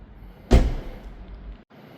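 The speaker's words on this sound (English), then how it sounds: "So let's shut the front door and go to the driver's side next." The front door of a 2026 BMW 330i xDrive M Sport Edition shuts with a single solid, close thud, followed by a brief low settling rumble and quiet surroundings.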